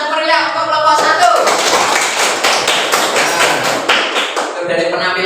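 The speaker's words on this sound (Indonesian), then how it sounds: "Beri aplaus yang meriah untuk kelompok 1." A classroom audience applauding a presenting student group, dense close clapping sustained across the whole stretch, loud and steady, with voices mixed in underneath.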